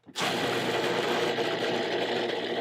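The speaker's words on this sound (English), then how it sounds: "I'm going to grind it a little more." A food grinder or processor motor grinds a mixture with arugula and lemon, starting abruptly and then holding a loud, steady, close whirring drone with no talking over it.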